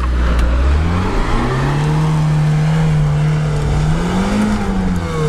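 An off-road car's engine revs hard and steadily, the wheels spinning and losing traction, with the pitch rising and falling over several seconds; loud and close, no talk.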